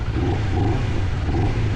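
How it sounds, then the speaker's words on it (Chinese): A 2024 KOVE 250RR motorcycle, its engine a reduced-bore version of the Kayo 321's 350 unit, sits in neutral and runs with a loud, steady, smooth low rumble close by, with no voices. "它这个发动机声音的话是很平顺的"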